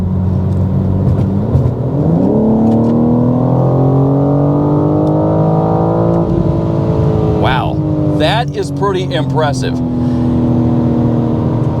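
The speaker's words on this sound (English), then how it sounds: "while you have this 3-liter 6-cylinder engine under the hood, it actually has a great exhaust note" A 2026 BMW M4 Competition's 3-liter six-cylinder engine accelerates hard, its exhaust note climbing through the revs and then snapping through quick upshifts, loud and close, with someone briefly speaking over it.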